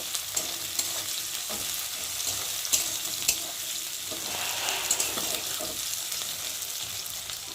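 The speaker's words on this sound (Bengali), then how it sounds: "কাঁচা লঙ্কার সাথে পেঁয়াজটা ভালো করে একটু ভেজে নেব" Onion and green chilies fry in a pan with a steady, bright sizzle close by. A few sharp clicks of stirring come through, and no one speaks.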